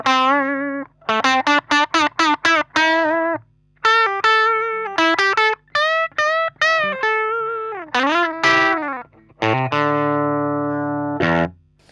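Electric guitar through an overdriven Fender Champ 5F1 clone tube amp, played in short bursts of notes and bends, gritty and loud, ending on a sustained distorted chord.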